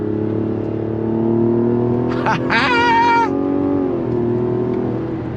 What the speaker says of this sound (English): rolling on throttle, it feels really, really good